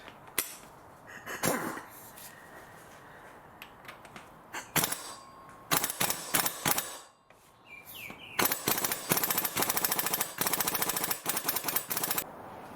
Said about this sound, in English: I'm gonna use the air gun to release that